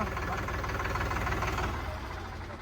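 A new Sonalika DI 35 tractor idles close by, its diesel engine giving a steady, loud, knocking rumble that runs throughout and eases slightly toward the end.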